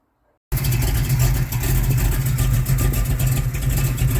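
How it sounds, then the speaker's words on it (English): A rebuilt 454 big-block V8 in a 1969 Chevrolet El Camino fires up after near silence and settles into a loud, steady, rumbling run close by, with no one talking. "we got the engine back in, got it running, it runs good."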